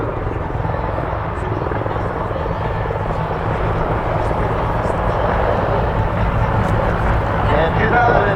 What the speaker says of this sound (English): There's a high-speed pass again by our Griffon helicopter.